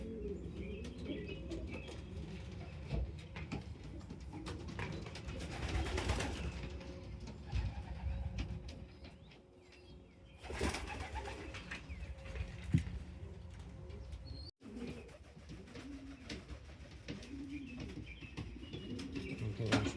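Pigeons coo in a stock loft, low soft calls repeating under a busy background of rustling, wing flaps and occasional bumps, fairly close and quiet.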